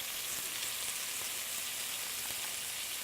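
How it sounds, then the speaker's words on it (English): Food sizzles steadily in a frying pan of melted butter over medium heat, a continuous close crackle with no talking. "add them to my frying pan where I've melted a tablespoon of butter"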